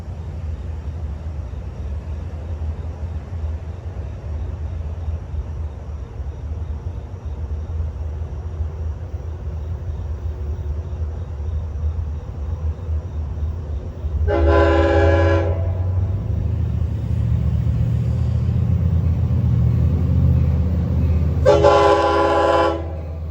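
Montauk Branch train 2736 rumbles closer with a steady low roar, sounding two loud horn blasts a few seconds apart as it nears, with no talking.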